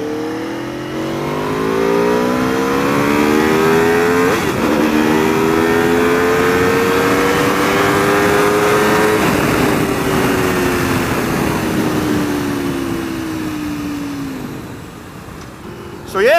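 Aprilia motorcycle engine revving hard while riding, a loud rising howl that climbs through the gears with a short dip at a shift, then a long falling note as the bike slows, close and continuous.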